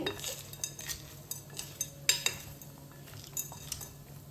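Food is stirred with rock salt in a pot, a spoon scraping and clinking against the metal in irregular light taps and scrapes at close range, fairly quiet, with no talking.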